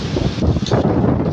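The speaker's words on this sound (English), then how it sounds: "Really very windy," Strong typhoon wind during Typhoon Wipha in Hong Kong, blustering steadily and loudly against the microphone along a street sheltered by buildings, with a constant roaring rush and brief gusty swells.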